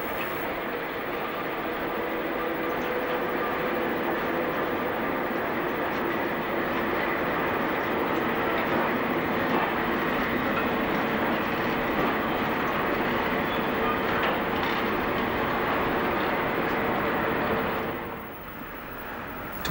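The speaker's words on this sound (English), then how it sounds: "The yard pilot shunts two PVAs which will form part of the evening departure to Cliff Vale" A yard pilot diesel locomotive shunts two PVA china clay wagons in a Cornish clay yard, giving a loud, steady rumble of engine and rolling wagons that fills the whole stretch before easing off near the end.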